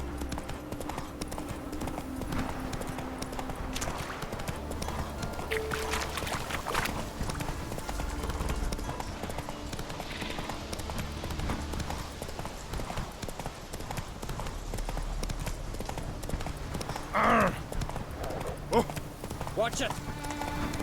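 Hooves of Roach, a horse in The Witcher video game, clip-clop at a steady galloping rhythm through the whole stretch, mixed with game music and ambience while someone speaks over it.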